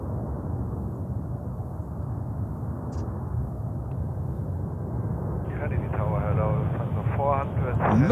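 A Lufthansa airliner at JFK airport roars steadily as it passes, a broad low rumble throughout, with radio voices faintly talking over it toward the end.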